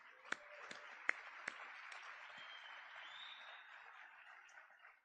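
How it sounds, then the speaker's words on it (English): A round of applause from an indoor audience at a District of Columbia event, a steady wash of many hands clapping at moderate level for about five seconds, with a few sharper individual claps standing out near the start. "Let's do a round of applause for this partnership."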